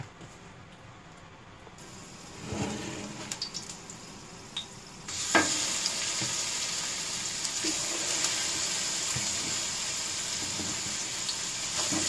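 Chicken legs sizzling and being stirred in a pan, a quiet bed of frying that jumps to a brighter, louder hiss about midway, with scattered scraping and knocking from the spoon.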